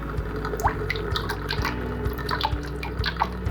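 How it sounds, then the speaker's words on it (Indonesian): A glass microscope slide is rinsed under running tap water, giving a continuous splashing trickle with small drips and patters over a low steady hum. "Kemudian dicuci kembali dengan air mengalir selama 1 menit."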